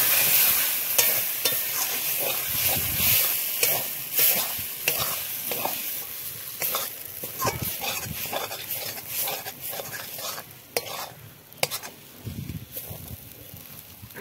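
A leafy greens dish fries in a pan with little oil while a utensil stirs and scrapes it in repeated, uneven strokes over a constant close sizzle.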